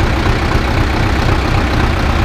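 An Ursus C-360 tractor engine idles at low revs with a steady, loud, rumbling diesel chug close by, unbroken for the whole stretch and with no voices.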